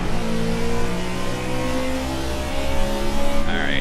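Ford Fusion stock car engine roaring in the racing game Project Cars, a loud steady high-revving drone with a brief rising whine near the end, no talk.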